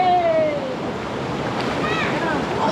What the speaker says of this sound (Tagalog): Wow, hangin.